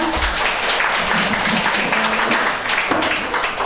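A crowd claps steadily in dense, continuous applause, loud and close, with a faint murmur of voices underneath.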